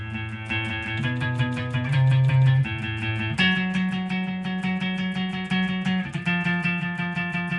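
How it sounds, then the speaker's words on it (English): Low bass guitar notes starting on open A, ringing with a steady plucked rhythm, sustained and clear, shifting pitch a couple of times alongside a repeating guitar pattern. "So the bass should sound like this."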